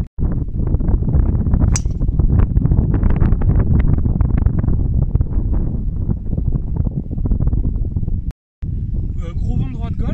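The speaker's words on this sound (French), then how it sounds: "Gros vent droite-gauche" Strong crosswind sweeps a golf course at Samanah in Marrakech, buffeting the microphone with a loud, continuous rumble that cuts out briefly near the end, while a voice talks under it.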